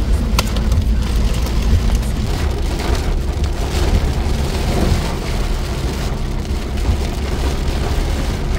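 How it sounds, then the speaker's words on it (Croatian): Heavy rain pours down steadily during a thunderstorm, a dense continuous roar of water drumming on surfaces with a deep low rumble, loud and close throughout with no voices. "Kakav pljusak, čoveč."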